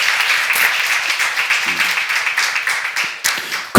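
A church seminar audience claps steadily and densely for nearly four seconds, a loud sustained round of applause from many hands with no voices over it.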